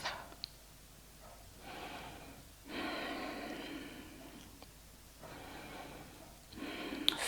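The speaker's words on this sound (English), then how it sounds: "Feeling how the air comes in through your nose, down to your belly, and then out again. Inhaling and exhaling." Slow nasal breathing during a yoga session, long soft inhales and exhales rising and falling in waves, close and quiet with no talking over it.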